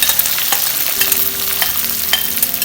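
Sliced onions hit hot oil in a pan and fry with a steady, bright sizzle, while a spoon clinks and scrapes as they are stirred close by. Nobody speaks.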